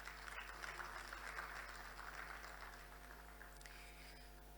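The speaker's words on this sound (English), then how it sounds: "Can we have a clap to that?" Faint, steady applause from a conference audience, distant and quiet, over a low electrical hum.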